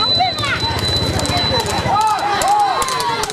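A horse cart race at Thirukkadaiyur, with hooves clip-clopping at a quick trot under loud outdoor noise and nearby shouting voices.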